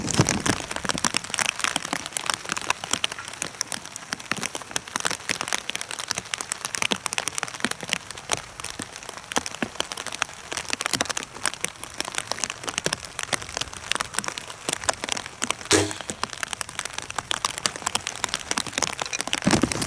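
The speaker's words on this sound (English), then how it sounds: "I know it's raining" Rain falls steadily outdoors at an archery range, a dense continuous patter of drops on surfaces close to the recorder, with scattered sharper taps and no voices.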